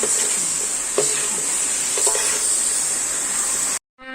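Kale and salted fish stir-fry in a hot pan with a strong, steady sizzle, broken by a couple of spatula scrapes before the sound cuts off abruptly.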